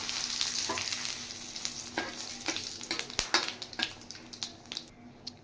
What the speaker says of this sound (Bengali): এবার আমি দিয়ে দিচ্ছি শুকনো লঙ্কা, তেজপাতা আর গোটা জিরে